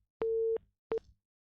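Telephone busy signal heard on a radio phone-in line, a clean electronic tone sounding one longer beep then a short one, clear and isolated against silence.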